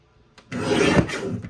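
A paper trimmer slices through a sheet of scrapbook paper, giving one short, close rasping stroke that lasts about a second.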